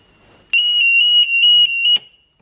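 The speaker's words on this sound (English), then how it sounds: "I've woke up this morning to the sound of the alarm." Household alarm going off indoors, a loud piercing electronic tone held for about a second and a half with slight wavering, then cutting off abruptly.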